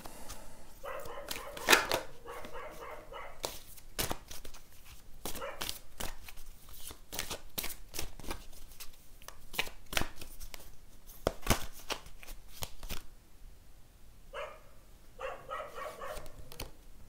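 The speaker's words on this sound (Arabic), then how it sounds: "خليني اخد كروت الملايكه" A deck of angel oracle cards being shuffled, several brisk riffling bursts and soft card slaps spaced through a quiet room, close and fairly faint, with scattered small handling clicks between them.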